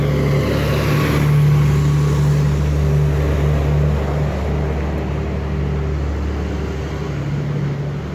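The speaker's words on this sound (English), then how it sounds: "let us wait for the bus, for the car to pass." A car passes along a dark street by a remote market in Romania, a steady broad engine and tyre rumble that swells early, then slowly fades, with wind-like noise and no talking.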